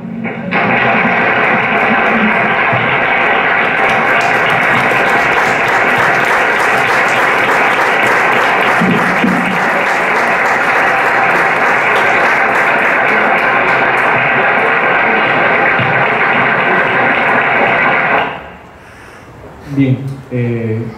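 A large audience applauds loudly and steadily for about eighteen seconds at an evening tribute to Peruvian Afro-Peruvian musicians, then the clapping fades out quickly and a few brief sounds follow.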